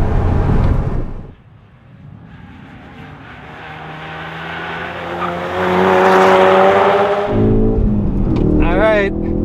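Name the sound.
car engine revving on a race track warm-up lap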